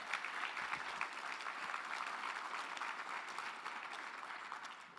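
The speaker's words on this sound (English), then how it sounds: "And one more big round of applause for all of the work" Applause from the audience at a water summit closing plenary, a sustained even wash of many hands clapping at moderate distance, steady throughout with no talking.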